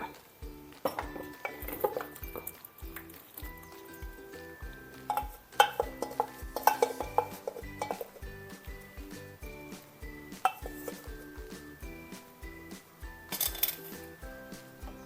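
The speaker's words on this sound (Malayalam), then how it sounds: "നമുക്കിതൊരു ചട്ടിയിലിട്ട് കൊടുക്കാം" Clattering and clinking of a spoon against pots as cooked vegetables are scooped into a clay pot, repeated knocks over steady background music.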